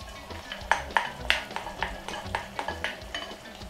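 Sweet and sour sauce is stirred in a pot, with a utensil giving a series of light clinks and scrapes against the pot at an irregular rhythm, close by.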